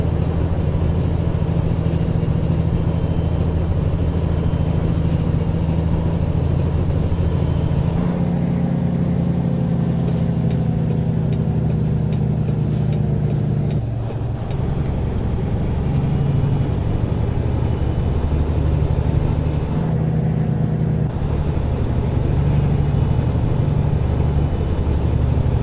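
A Kenworth W900 truck hauling a Wilson dropdeck trailer in American Truck Simulator labors up a highway hill, its deep diesel drone steady and loud, with engine pitch shifting as gears change.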